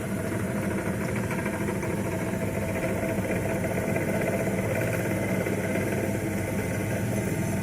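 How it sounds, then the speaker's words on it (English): A DC shunt motor on a test bench, fed through a slowly raised auto-transformer supply, runs with a steady, continuous mid-pitched hum and whir at constant loudness throughout, with no speech over it. "you can able to observe that the motor started rotating"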